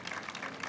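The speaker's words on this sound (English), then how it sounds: "Let's give another round of applause to DeWitt" A brief burst of audience applause at a ceremony marking the 200th anniversary of the Erie Canal, a dense, steady patter of many hands clapping at moderate volume.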